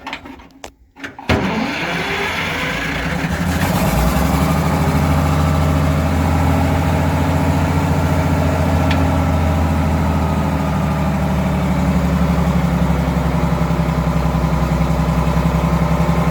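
An Allis Chalmers HD20 crawler's engine cranks and catches after a brief pause, then settles into a loud, steady, low-pitched idle that runs unbroken to the end.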